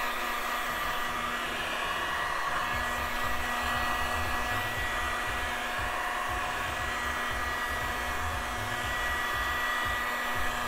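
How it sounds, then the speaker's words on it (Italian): A heat gun warms the PVC tube of an inflatable boat while a hole is being repaired. It gives off a steady, continuous blowing whir with a constant motor hum. "serve il termosoffiatore."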